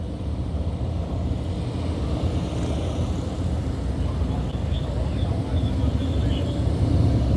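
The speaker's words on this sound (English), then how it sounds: "the rumble of the motorcycles just going by" Motorcycles rumble past in a memorial procession for fallen deputies, a steady low engine drone that swells slightly toward the end, loud and continuous outdoors.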